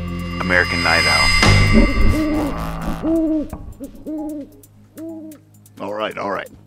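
Owl hooting in a series of distinct, evenly spaced hoots, fairly loud and close, after a brief burst of noise at the start, with a short faint voice near the beginning.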